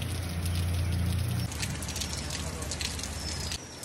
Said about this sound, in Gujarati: આવું સરસ વરસાદનું રોમેન્ટિક વાતાવરણ છે